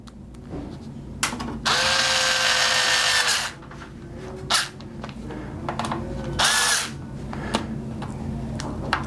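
A powered screwdriver drives cover plate screws in two whirring bursts, a long one and then a shorter one, close by, with light clicks and handling noises between them.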